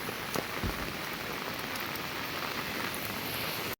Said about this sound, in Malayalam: അത്രയ്ക്ക് നല്ല മഴയാണ് ഇവിടെ